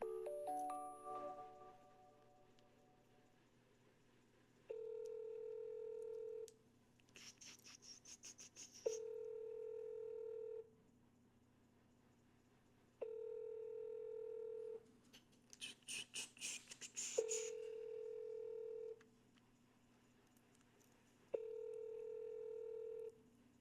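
A phone call is placed, with quiet keypad dialing tones and bursts of beeps alternating with repeated steady ringback tones over about twenty seconds. The sound is faint and there is no talking.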